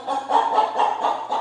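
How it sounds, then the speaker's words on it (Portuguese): A chicken indoors in a kitchen clucks in a steady series of close, moderately loud, rhythmic clucks, about five in quick succession. "Olha só a galinha."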